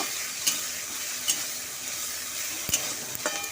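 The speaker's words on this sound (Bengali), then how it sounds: "কড়াইতে তেল দিয়ে দিয়েছি আর দুটো তেজপাতা দিয়ে দিচ্ছি তো পেঁয়াজটা ভাজা হয়ে গেছে চলো মশলা বাটাটা দিয়ে দিই দিয়ে করে কষিয়ে নেবো" Onion and spice paste frying in oil with bay leaves in a wok, a steady close sizzle with a few soft stirring clicks and scrapes, no talking.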